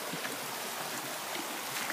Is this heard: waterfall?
yes